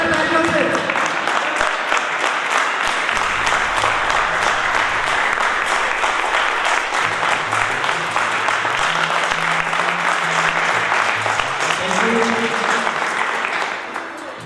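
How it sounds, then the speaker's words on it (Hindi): Sustained, dense audience applause at an award function, steady and loud for about fourteen seconds before tapering off at the end, with a faint voice briefly audible beneath the clapping. "जानदार तालियों से।"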